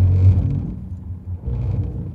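Road traffic on a New York City street: a close, steady engine rumble of passing cars that swells and fades, with no talking.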